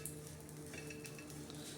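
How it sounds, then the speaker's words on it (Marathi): Dried fish (sukat) dry-roasts in a pan without oil for a village-style chutney, a faint, even hiss with light scraping and stirring clicks, no talk. "असं लालसर थोडं सुकट छान असं भाजून घ्यायचं, बिना तेलाचं बरं का"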